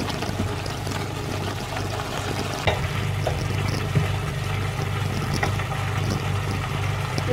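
Spicy chili paste for a squid stir-fry sizzles steadily as it is stir-fried in a pan, a continuous crackling hiss with occasional scrapes and clinks from the spatula, no voices.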